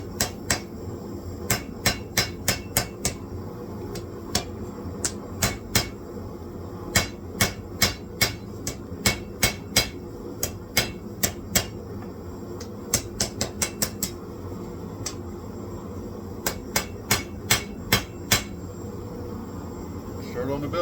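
Hammer blows on a steel billet being forged into a knife blade, ringing out in quick bursts of several strikes with short pauses between, loud and close over a steady fan-like hum.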